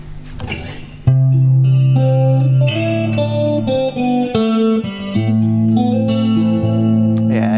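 An electric guitar plays sustained clean chords through the built-in chorus of a 1988 Fender Princeton Chorus amp, shimmering and wide with reverb, loud and steady without talk.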